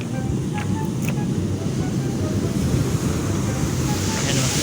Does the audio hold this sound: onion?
no